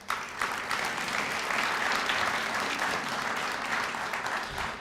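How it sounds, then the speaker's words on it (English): Attendees at the Wilson Chamber of Commerce annual meeting applaud Lee Motor Group, a full, even roar of clapping that holds steady throughout without talk. "Let's please give them another round of applause."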